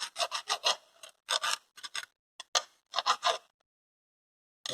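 File strokes deburring a machined part on a shaper model, a series of short, crisp rasping scrapes in quick groups, close and fairly quiet, ending in silence.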